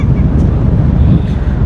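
Strong wind buffets the microphone aboard a car ferry, a continuous loud, low rumbling roar without a break.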